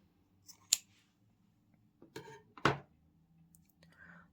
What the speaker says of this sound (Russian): И я обрезаю нить